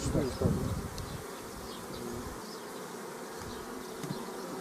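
A swarm of honeybees near an apiary in Tetiiv hums with a steady, moderately faint buzz, with a brief low voice and some handling noise at the start.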